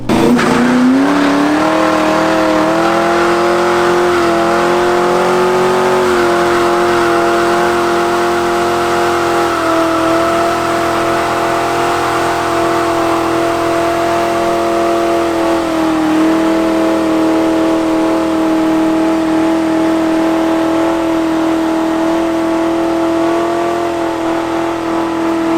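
A clapped-out Mustang GT does a burnout on its old tires, its engine held at a loud sustained high rev with steady tire squeal, shifting pitch slightly a few times over the long run.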